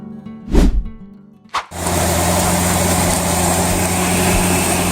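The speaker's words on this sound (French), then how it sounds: "Un tracteur classe Action 810, une machine moderne dotée de technologies avancées, prépare le lit de semences" A Claas Axion 810 tractor preparing a seedbed in an Italian field: after a couple of brief knocks, a loud diesel engine starts and runs in a steady, continuous drone close by.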